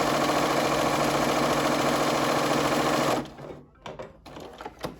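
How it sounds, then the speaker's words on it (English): Sewing machine running a zigzag stitch through fabric, a loud steady mechanical whir for about three seconds before it stops, followed by faint handling noises. "Another stitch you might find useful is the zigzag stitch, so whichever way that you select that on your machine, do so."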